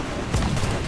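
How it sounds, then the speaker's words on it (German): A ship's cannon fires in Assassin's Creed 4 Black Flag, a single deep, loud boom rolling out over a dense game soundscape. "Also ich werde immer zielsicherer mit der Kanone."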